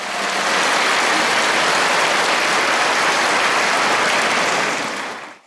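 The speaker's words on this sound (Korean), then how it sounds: "신부님을 큰 박수로 맞이하겠습니다." Dense, sustained applause from a large crowd welcoming a priest at a Catholic Cursillo 50th anniversary gathering in Daegu, loud and even throughout, fading out at the very end.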